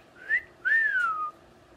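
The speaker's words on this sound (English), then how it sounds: "Can you whistle at Lacey?" Pet bird whistling indoors, a short rising chirp followed by a longer swooping whistle that falls in pitch, clear and close in a quiet room.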